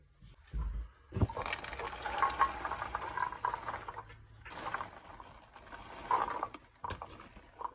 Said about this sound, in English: now we put in our rinsed beans